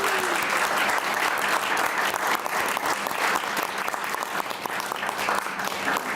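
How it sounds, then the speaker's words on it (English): Sustained applause from a sizable crowd, dense clapping that stays steady and fairly loud throughout. "I just want to give them a round of applause here as well."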